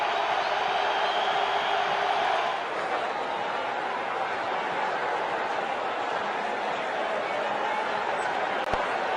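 Crowd roaring and cheering in the World Cricket Championship 2 mobile game after a big six in a Multan Sultans vs Quetta Gladiators match, a steady loud wash of stadium noise throughout with commentary-like voices mixed in.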